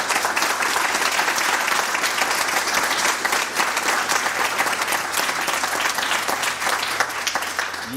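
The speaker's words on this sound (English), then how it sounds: "Can we give them another round of applause?" Sustained applause from a town hall audience on violence prevention, thanking the panelists; dense, steady clapping fills the whole stretch at an even, close level without a break.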